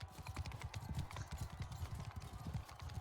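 Horse hooves in the Bannerlord video game: quick, rhythmic clip-clop footfalls of a galloping horse, moderately loud and steady throughout, with no talk.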